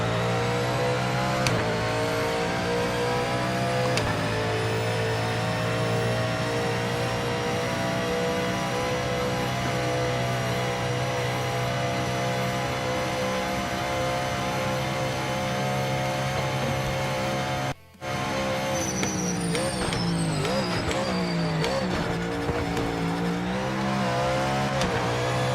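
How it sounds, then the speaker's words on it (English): A race car engine in the video game Project Motor Racing roars continuously with shifting pitch, revving up and dropping through downshifts, with a brief cut in the sound partway through. "The downshifts on this car sound like an angry big cat."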